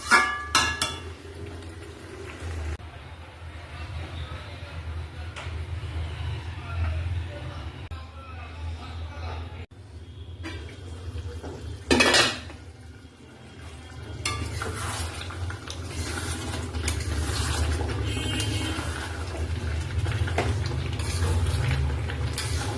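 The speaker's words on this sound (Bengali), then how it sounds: "আবার ঢেকে দেবো একটু আস্তে আস্তে করে কষাবো" Mutton being stirred and slowly sautéed in a covered pot, with utensil scrapes and clinks against the metal, a steady low sizzle underneath and a brief louder rattle as the lid is handled midway.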